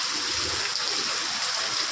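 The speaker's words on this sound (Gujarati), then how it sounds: "આવો જોરદાર વરસાદ ચાલુ છે" Heavy rain pours down outdoors after days of continuous downpour, a dense, even hiss of falling water with low rumbling beneath, steady and unbroken for the whole stretch.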